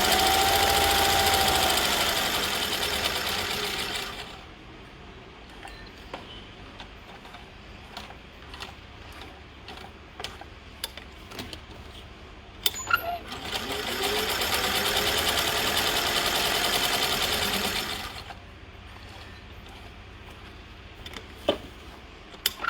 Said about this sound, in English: And I always sew an X on it just for strength.